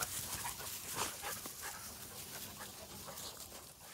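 Beagle puppies whimper and yip in an outdoor training pen, several high, thin cries overlapping in quick irregular bursts, quiet and somewhat distant.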